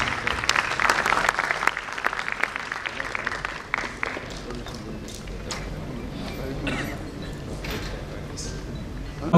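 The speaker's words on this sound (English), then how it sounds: "Please have a huge round of applause." Audience at a medical conference scientific session at AIIMS Kalyani breaks into applause. The clapping is strong and dense for the first few seconds, then thins out and fades under room noise and some talking.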